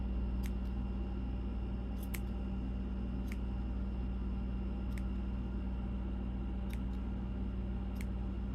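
Scissors snipping through wreath kit material, about eight crisp, separate cuts spread evenly over a steady background hum, close but fairly quiet.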